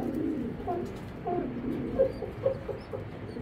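A racer pigeon coos softly several times in a row, with faint low rhythmic calls set against quiet background noise in a loft, no speech.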